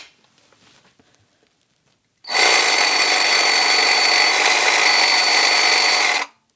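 A GardenJoy 21-volt cordless reciprocating saw runs at steady high speed for about four seconds, close and loud, after a quiet lead-in, with an even, buzzing motor drone and no load.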